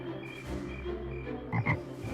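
A frog croaks in a scene from the animated musical The Princess and the Frog: a steady, close, throaty drone that swells into two louder croaks near the end, with no talking.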